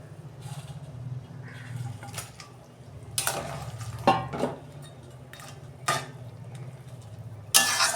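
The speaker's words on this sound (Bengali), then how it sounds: "আমি মাছগুলো দিয়ে দিচ্ছি।" Fish pieces go into a simmering mango fish curry in a pan, with a low steady bubbling bed broken by several sharp clatters and splashy knocks of pieces and utensil against the pan, close by.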